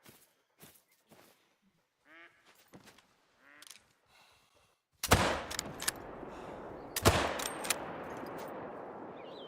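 Two loud, sharp gunshots in a hunting video game, each ringing out with a lingering echoing tail, preceded by quiet honking bird calls and scattered soft clicks.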